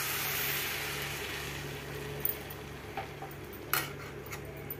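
Egg curry in tamarind broth being stirred in a pot, a soft continuous bubbling hiss with a few light spoon scrapes and clinks against the metal, close and moderately loud.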